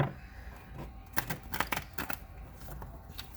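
Soft, irregular clicks and riffling of tarot cards being shuffled nearby, quiet and close, with brief sharp snaps and no speech.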